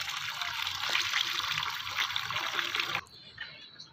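Water splashes and trickles steadily out of a container for chickens for about three seconds, then cuts off abruptly, leaving only faint background noise.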